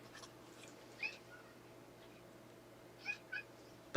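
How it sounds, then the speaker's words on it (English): A cat making a few short, soft squeaky meows, spaced apart over a quiet room hum, with a louder click at the end. "Mama Cat is squeaking"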